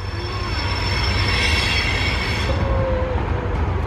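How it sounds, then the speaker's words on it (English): A train rolls along a track behind a flat backyard, with a steady rumble, wheel squeal and a faint rhythmic clatter at moderate distance and no talking over it. "You see the train, Bella?"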